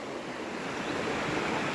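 River water rushes past farmland on a 34-acre estate at Bodi in Theni district, a continuous broadband roar that stays loud and even throughout the short stretch, with no one speaking.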